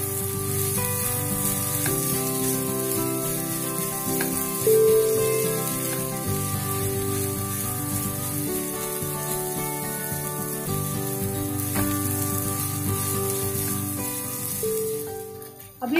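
A veg seekh kabab being pressed and roasted in a pan sizzles steadily and close, with a constant frying hiss behind faint background music.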